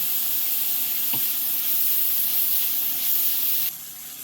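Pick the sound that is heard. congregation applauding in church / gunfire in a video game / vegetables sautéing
vegetables sautéing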